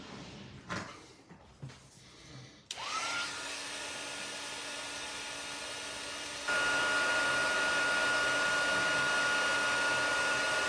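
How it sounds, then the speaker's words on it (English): A heat gun drying a Halloween card-making project blows a steady, close whooshing hum after some brief handling clatter, running continuously and growing slightly louder partway through. "let's hit it with a heat gun."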